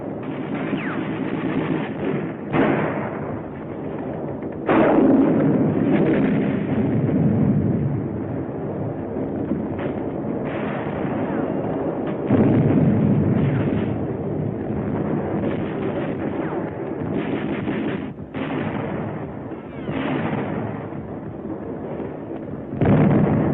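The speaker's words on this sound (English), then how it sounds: "Here's the bazooka. It's a hand-carried rocket gun. Firing it takes close teamwork." Bazooka hand-held rocket launchers and small arms firing in World War II combat on New Britain, 1944, with loud repeated blasts and crackling gunfire over a dense, continuous roar of battle.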